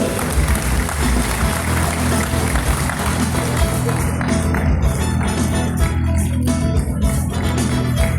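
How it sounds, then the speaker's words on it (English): A crowd at a school prize ceremony claps steadily and loudly for the All Saints School Primary Section, Secretariat Hills, the dense applause thinning slightly toward the end. "A round of applause for them."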